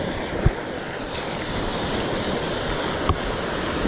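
Ocean surf washes steadily at a coral reef fishing spot, a broad continuous roar with wind buffeting the microphone and two brief sharp knocks.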